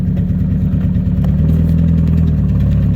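An MG Midget's small engine runs steadily as the car pulls away from a stop sign, a loud, close, continuous low drone with a slight rise in pitch partway through, with no talk.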